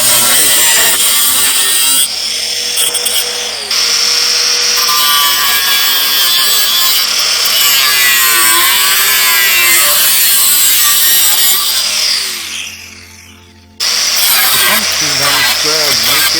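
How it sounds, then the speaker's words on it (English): An angle grinder cuts through scrap metal in a long, loud, continuous whine that wavers as the cut goes on, dips and fades near the end, then resumes sharply. "it's time to get the angle grinder out and cut off the media excess"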